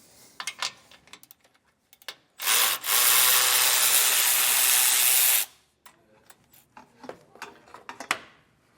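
A power tool spins off nuts from the bumper valance of a 2025 Ram in one loud, steady burst of about three seconds, framed by scattered clicks and metallic handling noises.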